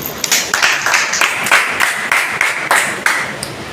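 Applause rises from an audience at a product-promotion meeting as dense, steady clapping with sharp hand strikes recurring throughout, loud and sustained with no talk over it.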